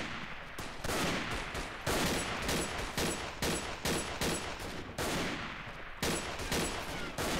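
Gunfire in the World War I shooter Verdun, a rapid series of sharp, loud shots in quick bursts with brief pauses between, close and dominant with no talking.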